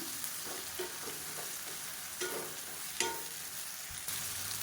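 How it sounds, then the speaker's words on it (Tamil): Boiled raw plantain pieces roast in hot oil in a pan, with a soft, continuous sizzle broken by a few close spatula stirs and scrapes; no one speaks. "சேர்த்துட்டு இந்த எண்ணெயில் வந்து நல்லா ரோஸ்ட் ஆக்கிக்கலாம்"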